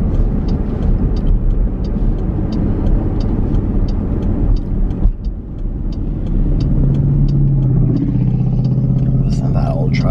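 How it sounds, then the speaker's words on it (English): An old truck's engine drones loudly at close range, rumbling low and steady beneath a near voice, then the pitch shifts as the truck passes and moves on. "Listen to that old truck."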